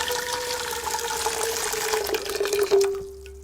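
Tap water streams steadily into a large pasta pan, the pitch slowly rising as the pan fills, then cuts off abruptly near the end.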